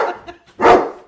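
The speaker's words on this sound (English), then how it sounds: "Sorry, I have two very large dogs, and hopefully they don't trip over the lights and everything." Two very large dogs barking indoors, a short loud bark followed by a louder, fuller bark close by, with no talking.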